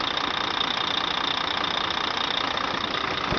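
A 2007 Volvo VNL64T780 truck with an automatic transmission idles close by, a steady, even diesel rumble with a faint knocking texture and no change in pace throughout.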